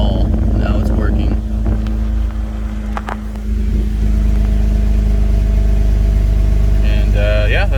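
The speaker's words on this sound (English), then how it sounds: "Excuse the exhaust leak." A Toyota Land Cruiser FZJ80 engine runs with an exhaust leak, giving a loud, steady, close-up rumble that holds throughout with little change in pitch.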